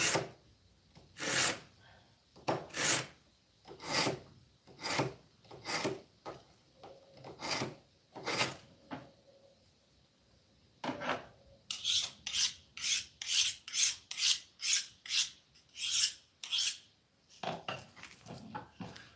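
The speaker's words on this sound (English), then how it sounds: "I also have a draw-through sharpener that I tend to keep with me" Knife blades rasping through a draw-through sharpener during a pig harvest: many short, gritty strokes in uneven bursts, some slow and spaced, then a quicker run of pulls near the end, close and fairly quiet.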